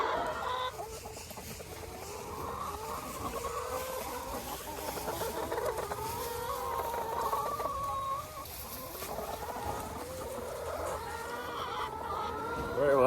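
Laying hens cluck and murmur continuously in a coop, many birds chattering at once with overlapping calls, steady and moderately close.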